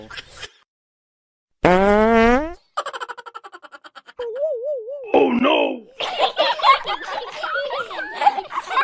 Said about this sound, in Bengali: তোর পাদের এত স্পিড